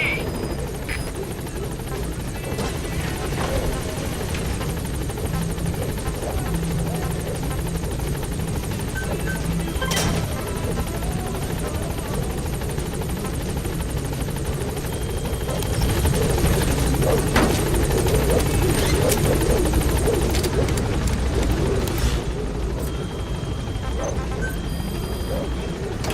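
Pequod, the support helicopter in Metal Gear Solid V: The Phantom Pain, arriving at a landing zone: a steady, loud rotor drone with dense low throb that swells slightly near the end, game voices heard faintly over it.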